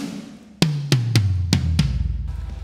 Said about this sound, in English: quite carefully selected kicks and snares and toms,